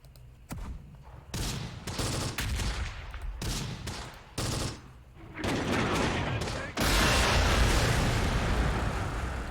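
Artillery fire in the WWII strategy game Close Combat: The Bloody First, fighting at Sbiba Ridge: loud repeated blasts and bursts of gunfire, building into a dense, continuous roar of shelling near the end.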